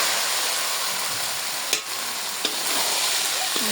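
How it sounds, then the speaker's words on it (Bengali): A spoon stirs a sizzling curry with gram flour paste and milk in a hot pan, with steady frying hiss and a couple of sharp scrapes or taps of the utensil against the pan, no voices. "নাড়াচাড়া দিয়ে করতেছি"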